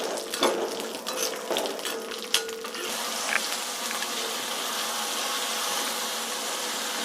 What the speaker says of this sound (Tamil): சுண்டைக்காய் நல்லெண்ணெயில் நல்லா வதங்கட்டும்